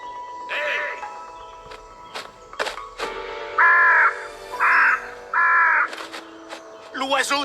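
A crow in an animated film gives three loud, evenly spaced caws, each a harsh drawn-out call, close and prominent, with other voice-like sounds and rustles before and after.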